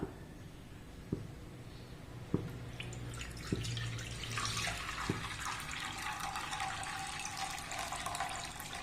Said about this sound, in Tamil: நம்ம அதில் தண்ணி சேர்த்துடலாம்.